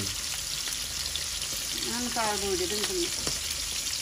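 Shrimp fry in hot oil with a bright, steady sizzle and crackle, joined by a brief tonal voice-like sound in the middle.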